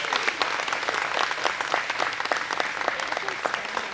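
Audience applause at a Teacher of the Year announcement, steady and dense clapping from a crowd, close and loud throughout.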